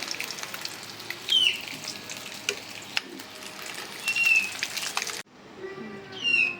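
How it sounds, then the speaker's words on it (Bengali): Steady sizzling of eggs frying in hot oil, with occasional crackles and a brief break near the end before the sizzle resumes. "এই যে আমাদের ডিম ভাজা লাল লাল হয়ে গেছে, এখন নামিয়ে নেব।"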